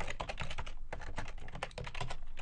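Rapid, steady typing on a computer keyboard as names are entered, dense overlapping key clicks close by, with no voices.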